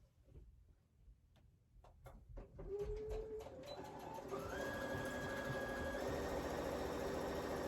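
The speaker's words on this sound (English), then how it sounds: "go over to my sewing machine and stitch this down at 1/4 of an inch" A few slow mechanical clicks give way to a sewing machine stitching a fabric face mask, its rapid rhythmic whir rising in speed and holding close and constant.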